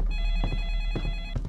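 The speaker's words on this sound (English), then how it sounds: "That's the phone, which means the ghost." A telephone rings inside a ghost-hunting video game, a continuous electronic ringtone tone held throughout, fairly loud and up front, with a few low thumps underneath and no talking.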